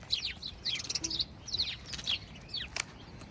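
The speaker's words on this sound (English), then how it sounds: "All the birds hopping around in the bush." Several small birds hopping around in a bush at a campsite on a farm near York, giving repeated quick chirps and tweets close by, with brief pauses between bursts and no talking.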